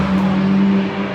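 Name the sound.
race cars racing around the track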